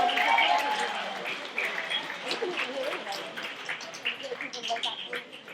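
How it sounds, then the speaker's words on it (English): Crowd applause and cheering at a comedy show, loudest at the start, with scattered claps continuing as voices chatter underneath. "Show a round of applause"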